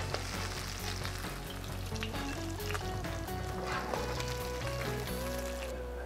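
Salmon cakes fry in a pan with a soft, steady sizzle and faint crackle, an even bubbling hiss close by with no talk.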